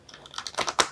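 An oversized tarot card deck is shuffled by hand, giving a quick, close run of crisp flicking clicks that grows louder over about a second.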